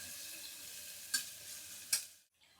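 Onion and vegetables for veg pulao fry softly in a pan. Two sharp clinks of a spoon against the pan break the low, steady sizzle, and then the sound cuts off near the end.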